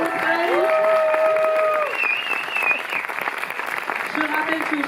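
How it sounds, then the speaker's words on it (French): Cinema audience clapping at a Montreuil screening, steady applause that stays loud throughout, while a voice sings or speaks over it in the first half and briefly near the end. "Ce soir, vous pouvez faire un tonnerre d'applaudissements pour les conseillers de ce soir du village de Montreuil."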